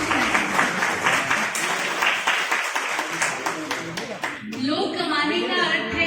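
An audience at a farewell gathering in Raipur claps steadily and densely for several seconds before the applause gives way to a voice and other sound near the end.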